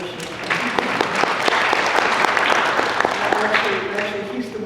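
Church congregation applauds warmly during a sermon, a full steady spread of clapping with occasional sharp claps and some voices murmuring beneath it.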